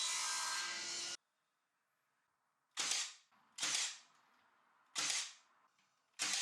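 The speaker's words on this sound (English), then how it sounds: "These slats I'm ripping down to form some front cladding pieces" Wooden slats salvaged from bins are ripped lengthwise with a saw. A long, loud, harsh cut runs for about a second, then after a pause come four short, sharp strokes, each fading quickly.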